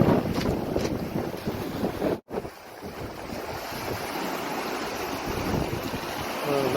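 Strong wind that has blown for two days roars steadily across the Croatian coast near a ferry route, a continuous loud gusting rush with waves and water beneath, briefly cut off once before resuming.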